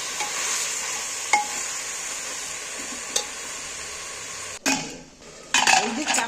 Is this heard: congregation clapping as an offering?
no